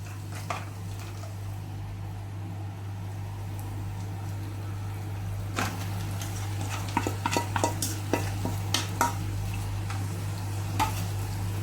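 Chicken being stirred in a frying pan with green chillies and sautéed aromatics for a Kerala chicken roast: a steady low sizzle with a constant hum, then a run of close, sharp scraping and clinking stirs in the second half.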